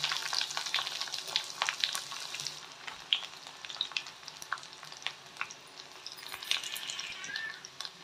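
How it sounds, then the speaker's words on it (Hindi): Chopped garlic sizzling in hot mustard oil for a tempering, a steady bright crackle with scattered pops and spits, moderately close and continuous, with no voices. "तो ये तेल गर्म हो गया है, तो हम इसमें फ़ोरन डाल देंगे।"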